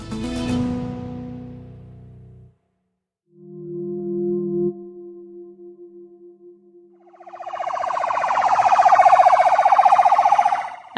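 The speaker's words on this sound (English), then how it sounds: "An ambulance races to the site of an airstrike in Gaza." An ambulance siren heads to an airstrike site in Gaza. After a brief burst of other noise and a steady low tone, it rises loud and wavering over the final seconds, with no speech.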